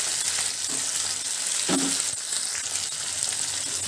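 Green chillies fry in a pan for a tofu and green peas masala curry, giving a loud, dense, continuous sizzle up close with a couple of soft stirring knocks.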